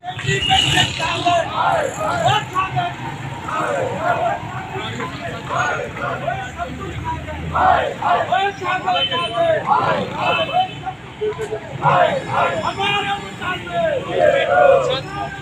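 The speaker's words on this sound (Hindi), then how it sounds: "यहाँ पर नारेबाजी भी हो रही है" Retired workers and pensioners at a hunger strike camp chant slogans in rhythmic crowd bursts, with a busy babble of voices and passing road traffic underneath.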